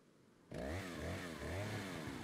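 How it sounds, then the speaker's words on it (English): Chainsaw enemy in the video game Resident Evil 4 (Wii edition), a loud buzzing saw engine bursting in after a quiet moment and revving unevenly up and down, close and alone. "Chainsaw guy."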